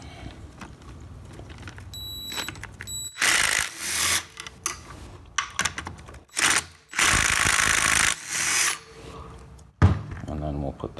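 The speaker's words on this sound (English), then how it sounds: "there's 2 bolts here that hold in this parking pawl, so we'll take them out" An impact or ratchet tool spins out the two bolts holding the parking pawl on a 4L60E automatic transmission under teardown, in loud mechanical bursts with short pauses and clanks between them, close up in a workshop.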